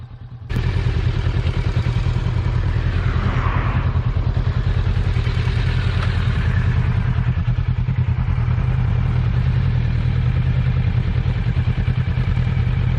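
A Kawasaki Vulcan S 650 cruiser motorcycle, fitted with the sport-tuned Versys 650 parallel-twin engine, fires up and settles into a steady, loud, close-up idle with a throbbing low rumble and light mechanical clatter.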